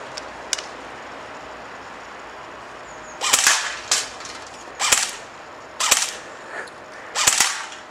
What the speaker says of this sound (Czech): No nyní si zastřelí pan Půlorek